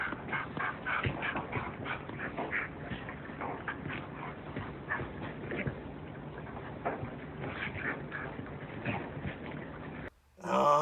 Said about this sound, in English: Watching little dogs play